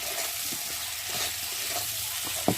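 Tomatoes with turmeric, chili powder and salt fry into a masala, giving a continuous close sizzle with soft stirring scrapes and a sharp tap near the end.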